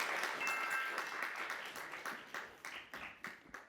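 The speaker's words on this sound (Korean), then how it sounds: "세 번째 팀 우리 환서중학교를 박수로 함께 받아주시면 고맙겠습니다" Audience applause welcoming a middle school team at a student mock-trial competition, a full burst of clapping that thins into scattered individual claps toward the end, moderately distant.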